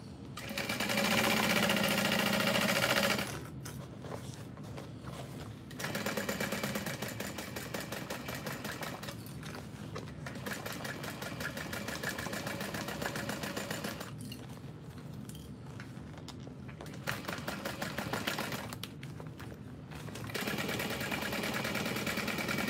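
Sewing machine stitching around the U-shaped curve of a small backpack in several long runs with brief stops between them, steady and close.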